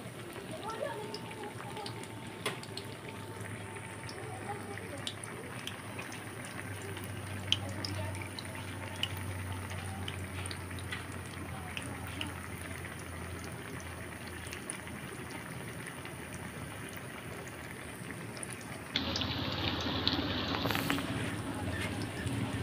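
Sliced bananas fry in a pan for a homemade snack, giving a quiet, continuous sizzle with scattered sharp crackles and a fuller burst of hissing toward the end.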